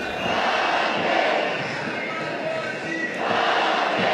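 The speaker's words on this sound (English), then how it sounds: "we hear enormous roar from the crowd" A large crowd of protesters in Egypt roars and chants against President Morsi, a dense, continuous wall of voices that swells and dips slightly throughout.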